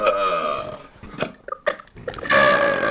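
A loud, drawn-out burp from a man on a group video chat, cut by short bursts of chatter and laughter before a second strong belch rumbles out at the end.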